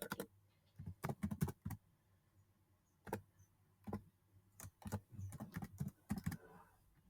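Code is typed on a computer keyboard in short, quiet bursts of clicky keystrokes with brief pauses between runs, picked up close in an otherwise still room.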